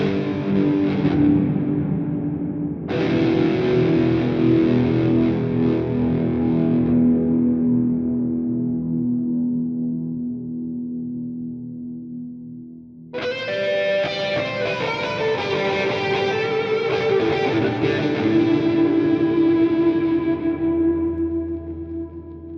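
Electric guitar chords ring out through GPU Audio reverb and modulation effects, loud and heavily washed with echo and shimmer, with long sustained decays and a fresh strum partway through that swells and lingers.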